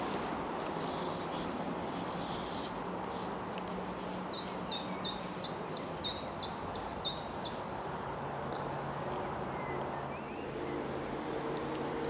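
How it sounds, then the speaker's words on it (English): A chiffchaff gives repeated chirps, about eight quick high notes in a steady run, heard over a constant outdoor hiss of running water or wind beside a river. "that cheep cheep cheep, it's called a chiff chaff"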